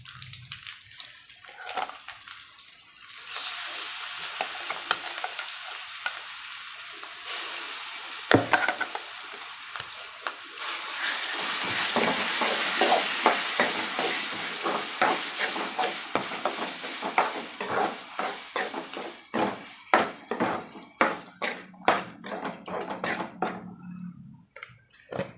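Ground cucumber chutney fries in oil in a pan with curry leaves, giving a steady close sizzle and bubbling, then growing into quick repeated scraping and stirring clatter toward the end.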